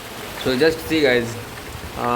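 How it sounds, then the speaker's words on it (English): Heavy monsoon rain pours onto a pond in Kolkata, a steady broadband hiss running throughout, while someone talks over it in the foreground. "it is too much raining guys, too much"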